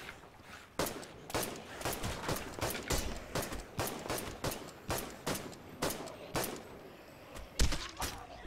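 Rapid gunfire in The Last Stand: Aftermath, with sharp shots cracking one after another at a fairly regular pace, close and punchy, and a heavier blast near the end.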